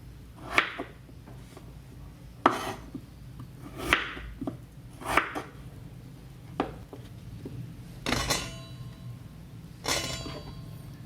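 Potatoes, chilies and galangal being sliced with a knife for buntil, heard as sparse, separate knocks of the blade on a cutting board, a few seconds apart, fairly quiet against a faint background hum, with no talk.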